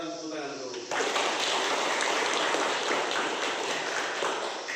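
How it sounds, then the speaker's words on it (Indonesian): A classroom of schoolchildren breaks into sustained, dense hand clapping after a voice, the applause loud and even for several seconds. "Sekarang tepuk tangan dulu."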